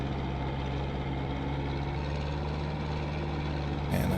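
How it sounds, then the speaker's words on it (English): Steady idle of a Zetor four-wheel drive tractor engine, a constant close rumble that changes briefly at the very end, with no talking. "It is a four-wheel drive tractor"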